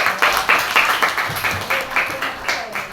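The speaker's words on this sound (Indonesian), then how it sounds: "tepuk tangan dulu buat Dewa" A class of students claps for a classmate during a twelfth-grade mathematics lesson, a loud rhythmic round of hand claps with a voice speaking faintly underneath.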